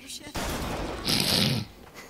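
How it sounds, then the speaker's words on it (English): Shotgun fire in BioShock Infinite: Burial at Sea comes as a loud, rough burst of blasts in the middle of the clip, with people talking over the game sounds. "Shotgun makes a mean sound, though"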